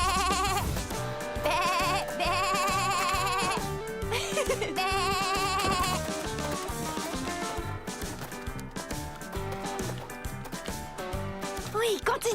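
Goats bleating repeatedly in a cartoon adventure, wavering cries coming in several bursts over a busy music background, with voices talking alongside.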